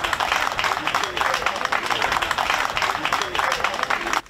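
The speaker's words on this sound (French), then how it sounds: "Applaudissez très fort pour le gouverneur." Crowd applauding for the governor at a foundation-stone ceremony for Institut Salongo, a dense, steady wash of clapping held at full strength for about four seconds before cutting off abruptly.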